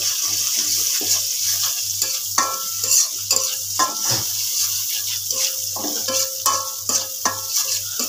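Food in a frying pan is stirred and mixed after cumin powder goes in, with rhythmic spatula scrapes and clinks over a soft sizzle, close up, alongside a steady low pulsing hum.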